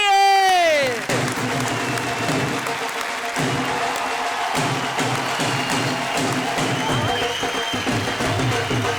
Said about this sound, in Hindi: तो इन कवियों के लिए एक बार जोरदार तालियां बजाइए